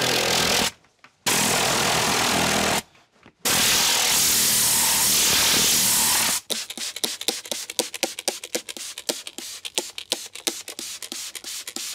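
A compressed-air nozzle blows dust out of the interior seams of a Mercedes GLE, loud hissing bursts broken by two short pauses, followed by a fast run of sharp rhythmic tapping.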